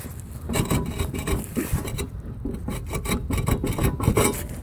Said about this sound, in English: So let me take the rotor off.